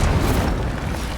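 The Incendio fire spell going off in the Hogwarts Legacy video game: a loud, deep fiery boom with a roaring burst that swells at the start and rumbles on as it slowly decays.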